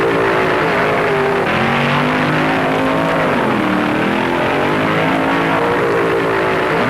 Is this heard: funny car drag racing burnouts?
yes